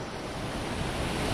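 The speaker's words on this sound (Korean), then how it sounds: "물 흐르는 소리를 들으니까 힘든 것도 잠시 잊게 되더라고요." Water in a mountain valley stream on Seoraksan's Osaek trail rushes steadily, a dense, even wash of flow that stays constant throughout with no voices.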